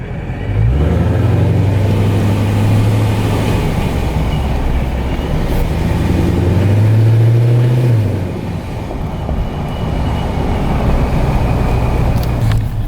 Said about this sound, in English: you can hear the supercharger a lot outside